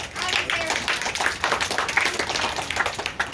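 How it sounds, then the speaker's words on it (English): A group applauds itself at the end of a week-long outdoor program, a dense, steady clapping that holds loud and close for the whole stretch with a few faint voices mixed in. "So can you give yourselves a round of applause?"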